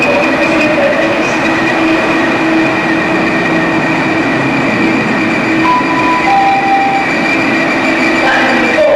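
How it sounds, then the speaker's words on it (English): A train rolls through a railway station in the north of England, a loud steady rumble of wheels and carriages with a faint high squeal from the rails, continuous throughout. "This train is moving on to Promenade."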